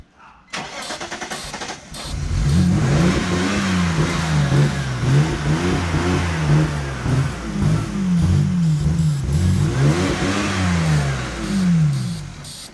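A BMW engine running on brake cleaner cranks briefly, catches, and revs in uneven rising and falling bursts for about ten seconds, loud and close, with no talking.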